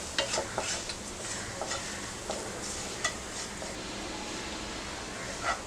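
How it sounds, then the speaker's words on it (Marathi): Red masala, garam masala, turmeric and coriander powder are sautéed in a pan with onion for egg curry, giving a soft steady sizzle broken by quiet stirring scrapes and taps. "मसाला परतून घेऊया।"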